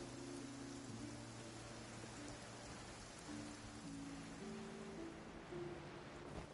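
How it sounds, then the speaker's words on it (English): Soft, steady rain hisses quietly in the background of Genshin Impact while low sustained tones hum underneath, calm and continuous. "It's raining again."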